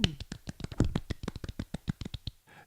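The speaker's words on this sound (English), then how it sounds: "Small round of applause" A small group gives a brief round of applause, roughly two dozen distinct, fairly close claps in a quick irregular rhythm that taper off after about two seconds.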